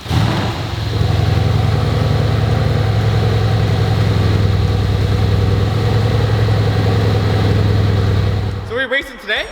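A 2015 Mercedes C63 with Pure turbos running at idle: a loud, steady, deep engine rumble holds close by for most of the stretch, then cuts off abruptly near the end.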